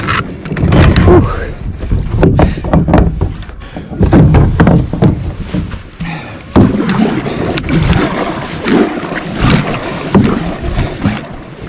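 A paddle scrapes and knocks against slushy, icy water on a frozen lake during an ice fishing outing, loud close strokes in irregular bursts, with people talking and breathing hard between them.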